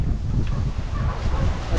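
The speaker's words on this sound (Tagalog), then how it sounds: "Malaksan po yung hangin." Strong typhoon wind in Taiwan blows as a steady low rumbling roar, buffeting the microphone continuously and loudly throughout, with no clear voices over it.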